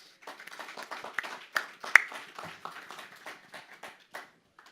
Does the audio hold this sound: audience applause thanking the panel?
yes